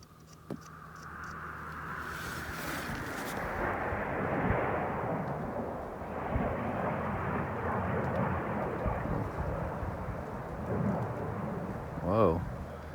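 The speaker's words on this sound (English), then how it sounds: "First time I've heard jet operations flying through the woods like that." A jet's deep roar swells and rumbles overhead for several seconds, loud and broad, before fading, with a brief sharp click early and a voice near the end.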